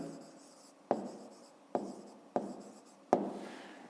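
Numbers are written by hand on paper during a fifth-grade math exercise: soft, continuous pen scratching broken by four distinct taps as the pen strikes the page, close and quiet with no talking.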